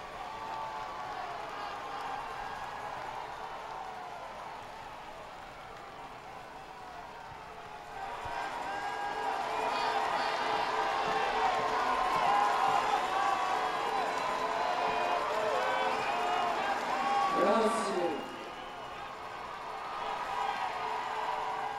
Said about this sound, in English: And a cheer goes up.